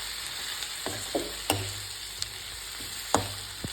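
Gobi rice mixture, cauliflower with rice, stirred and fried in a pan: steady soft sizzling, broken by intermittent scraping and clinking strokes of the spatula against the pan.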